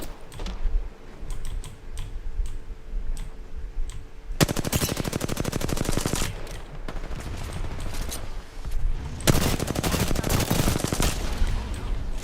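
Rapid automatic gunfire in the Apex Legends video game, two sustained bursts of several seconds each, loud and close, separated by quieter stretches with scattered single shots and game ambience.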